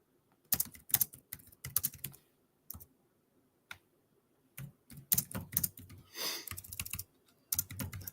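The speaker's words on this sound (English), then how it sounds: "Intense typing." Fast bursts of typing on a computer keyboard, clattering key clicks in quick clusters separated by short pauses, close up in a quiet room.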